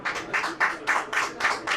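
Applause for panel speakers at the close of a talk at a trade fair: a steady run of separate, evenly spaced claps, moderately loud and fairly close, with no voices over them.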